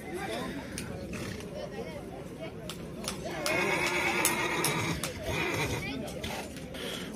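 At a livestock bazaar in Kyrgyzstan, a horse whinnies loudly over constant crowd babble and distant voices, with an extended neigh in the middle.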